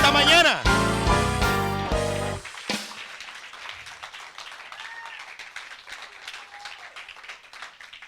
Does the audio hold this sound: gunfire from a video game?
no